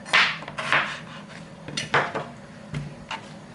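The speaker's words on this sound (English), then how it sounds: "I'm just going to put these in the pan and then put the boiling water over them." Close clattering of potatoes dropped into a metal pan, several knocks and clunks, then softer handling sounds; no pouring water is evident.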